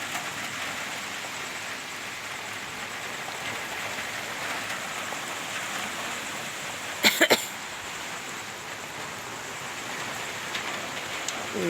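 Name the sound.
rain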